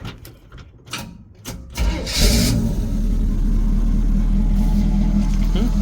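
A 1965 Chevrolet C-10 pickup cranks with a few clicks and whirs, catches and settles into a loud, steady, rumbling idle close by.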